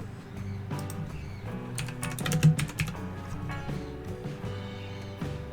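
Fast keystrokes on a computer keyboard typing a search term, close and fairly loud, a busy cluster of clicks peaking mid-way with lighter taps before and after over a faint background hum.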